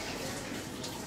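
Water from a tap runs steadily and fairly loudly while someone rinses mouth and nose during ablution (wudu), a continuous close splashing flow with no speech.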